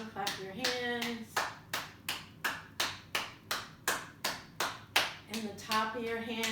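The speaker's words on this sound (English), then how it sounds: "Come all the way down, clap your hands." Hands clapping during a healing yoga session, a steady series of about a dozen crisp, evenly spaced claps, close and clear, with a voice talking at the start and end.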